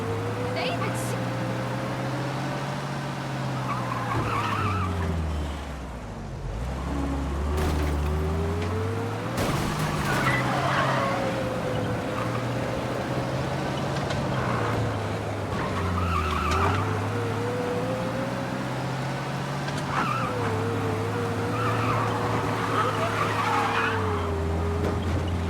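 A car in the Mafia Definitive Edition video game drives hard with an engine droning and rising, tires squealing through turns and occasional skids, and voices talking over the driving.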